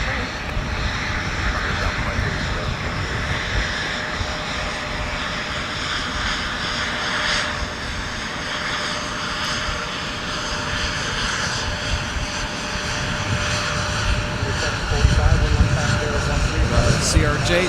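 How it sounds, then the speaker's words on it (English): A CRJ jet taxis at Minneapolis–St. Paul airport, its engines giving a steady, loud roar that swells slightly near the end, with radio and voice chatter over it. "CRJ taxiing on Mike."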